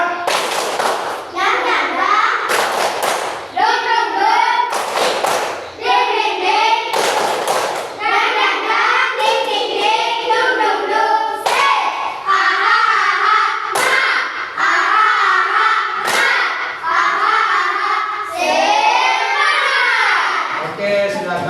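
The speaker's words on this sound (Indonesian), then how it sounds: "Oke, kita tepuk semangat dulu ya." A group of children at a gathering performs 'tepuk semangat' spirit clapping, loud rhythmic bursts of claps in patterned sequences alternating with chanted voices, close and energetic.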